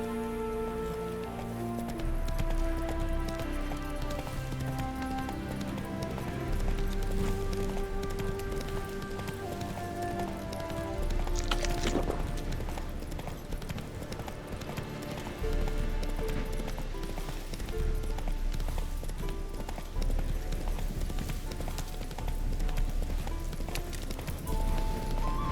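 Roach, the horse in The Witcher 3, gallops with a continuous rhythmic clip-clop of hooves under game music, steady and fairly loud throughout.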